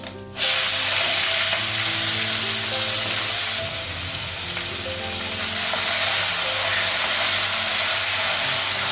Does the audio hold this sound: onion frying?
yes